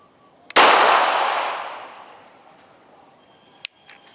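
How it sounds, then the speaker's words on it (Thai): A single sharp, loud pistol shot cracks at close range during target practice shooting without sights, its report decaying over about a second and a half, followed later by a faint short click. "ยิงที่ศีรษะลองดู"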